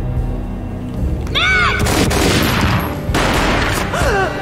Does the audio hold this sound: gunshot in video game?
yes